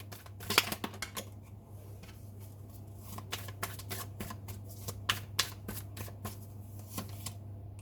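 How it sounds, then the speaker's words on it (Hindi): Tarot cards are shuffled and drawn close up, with crisp riffling flutters and sharp snaps of card edges in uneven bursts over a low steady hum, no voices. "मैं 2 कार्ड निकालूंगी, ठीक है, पता लगाने के लिए।"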